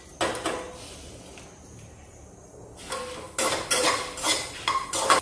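Whole spices dry roasting in a pan for Madurai mutton pepper fry, with metal scraping and clinking of a spoon against the pan in quick bursts, quieter in the middle and busier toward the end, close and fairly loud.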